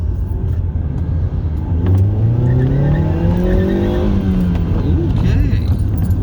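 A 2012 Ford Fusion with newly installed suspension accelerates hard, its engine note climbing steadily in pitch over a few seconds, heard from inside the car with steady road and wind noise.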